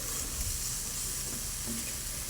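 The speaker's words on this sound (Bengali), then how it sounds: "তো ওগুলোকে দিয়ে এখন একটু ভালো করে নাড়িয়ে নিচ্ছে" Boiled potatoes and soybeans are stirred into a spice masala frying in a pan, giving a steady, close, continuous sizzle with faint shuffling underneath and no talking.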